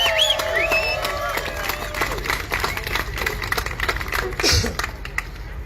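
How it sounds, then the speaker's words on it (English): Convoy supporters applaud and cheer as a crowd, steady clapping mixed with scattered voices, whistles and chatter over the full stretch. "Give yourselves a round of applause."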